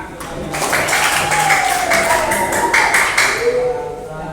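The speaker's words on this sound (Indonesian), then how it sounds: "Tepuk tangan." A school class clapping together in a classroom, a series of rhythmic group claps ringing out at a steady beat, fairly loud and close, with children's voices underneath.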